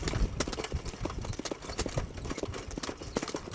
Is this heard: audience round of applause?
no